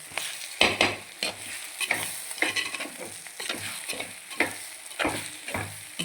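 Egg curry frying in a pan while being stirred, brisk rhythmic scraping of a spoon over a constant sizzling hiss, close and steady throughout with no voices.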